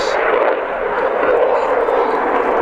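French Air Force Rafale jet with Snecma M88-2 engines roaring loudly and steadily throughout, a broad sustained jet rumble.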